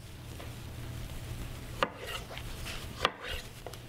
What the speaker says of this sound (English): So I'll start close to the end. Nice even slices.